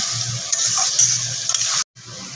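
Boiled taro and potato being stirred into spices in a hot pan, soft scraping and sizzling strokes at a steady pace, stopping abruptly near the end.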